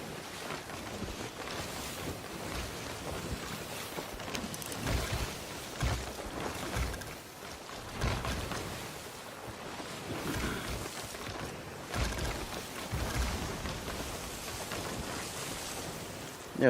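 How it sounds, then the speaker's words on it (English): A ship sailing on the open sea in the video game Sea of Thieves, with continuous washing waves and wind rushing around the hull, steady and moderately loud. "while we're sailing out"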